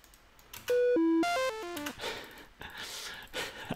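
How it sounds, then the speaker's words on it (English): A Pico-8 retro game sound effect for picking up a bad object: a short chiptune sequence of square-wave beeps stepping downward in pitch, followed by a faint noisy tail, alone and clear. "I want to have like a sound that is kind of like you picked up an object,"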